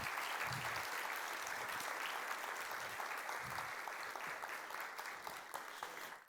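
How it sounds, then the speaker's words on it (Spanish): An audience in a hall applauds a group of hospital teachers, a full, steady wall of clapping that holds strong before easing off slightly at the very end. "Un aplauso para estas profes."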